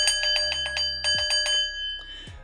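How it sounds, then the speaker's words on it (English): A bell rung repeatedly in quick, rhythmic strikes, bright ringing tones sounding about seven or eight times before trailing off, close and fairly loud with no talking over it. "I'm ringing the fucking bell."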